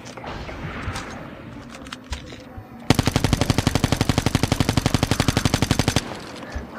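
Rapid machine gun fire bursts out in a long, evenly spaced stream of loud shots lasting about three seconds, preceded and followed by quieter game ambience.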